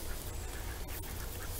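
Ducks quack around a backyard pond with a filtration setup, the calls coming in brief bursts over a steady wash of water and outdoor noise, fairly distant and partly masked.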